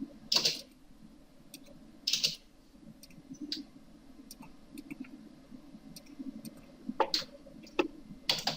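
Keys click on a computer keyboard while entering AutoCAD commands, with scattered taps and a few louder bursts, close and quiet over a soft room hum, no talk.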